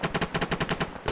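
Machine gun fire in the ArmA 3 military game, a rapid burst of about a dozen evenly spaced shots, close and loud, with no talk over it.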